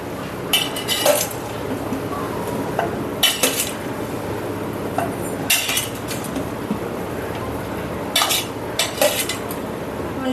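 Amla gooseberries drop into a pot of jaggery syrup, giving several bursts of clinks and clattering against the metal pot, with a steady bubbling hiss underneath.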